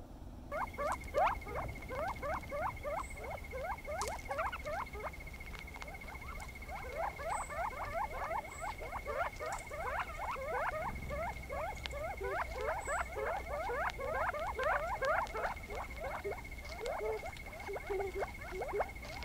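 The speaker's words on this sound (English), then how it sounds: "So that's an actual sound of Gamble's quail. It's a covey of quail." A covey of Gambel's quail calls together in a steady, overlapping chorus of short, rising chirps and clucks, with a constant thin whine running underneath.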